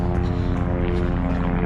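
A helicopter passing overhead during Ascot race week, a loud, steady rotor and engine drone filling the air continuously, close and unbroken.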